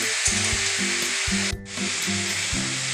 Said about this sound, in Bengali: ভালো করে মাংসগুলো একটু ভেজে নিতে হবে।